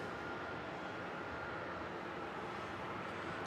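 Four-engine Kalitta Boeing 747 arriving at Melbourne Airport in the evening, a steady broadband jet roar held at even, fairly distant level throughout with no talk over it.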